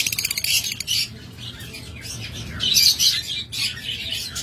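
A pair of black-eyed Fischer's lovebirds chirping close by, rapid shrill tweets and squawks in overlapping bursts, lively and continuous over a low background hum.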